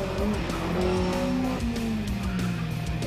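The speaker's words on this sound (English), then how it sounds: "The Simca is as stiff as a board on the road, and Hans Exner drives his laps confidently and without major effort" Simca 1200S driven hard through a slalom lap, engine revving and tires squealing as the car changes direction, loud and close with no talking.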